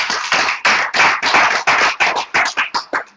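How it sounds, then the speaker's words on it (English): A short burst of rhythmic audience applause, about a dozen sharp, evenly spaced claps close by that quicken slightly and trail off near the end. "Let's give Child a round of applause."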